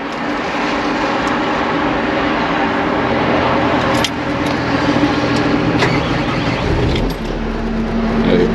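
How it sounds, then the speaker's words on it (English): Diesel engine with a particulate filter idling steadily at elevated regeneration idle, a constant low rumble with a faint high whine; the pitch and level shift slightly near the end, with no talking. "I activate the parking brake, I let it idle and warm up. The high idle will kick on. That's just it regenning."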